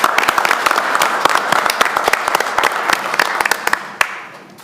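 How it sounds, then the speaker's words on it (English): Applause rings out at a civic advisory committee meeting as a room of people claps steadily for several seconds, the sharp claps thinning and fading near the end. "So round of applause."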